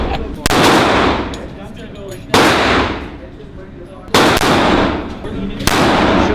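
Loud firearm shots ring out at a shooting range, four sharp blasts spaced a second or two apart, each trailing a long echoing decay.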